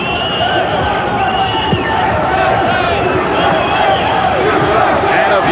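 A packed arena crowd at an amateur boxing dual meet between the USA and Canada in Charlotte, North Carolina roars in a loud, unbroken wall of cheering, with a commentator's voice running over it.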